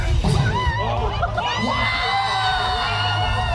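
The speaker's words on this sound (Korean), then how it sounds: "사람들도 막 소리 지르고 환호하면서 나오시더라고요" Visitors at a Honda Day motorcycle gathering on Gyeongcheon Island in Sangju shout, whoop and cheer during a raffle draw, a lively crowd close by with overlapping yells and excited voices throughout.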